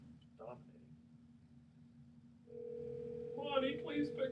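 A telephone call goes out and a steady ringback tone sounds on the line, starting midway and holding as a continuous tone while someone talks over it, after a quiet stretch with a brief voice earlier.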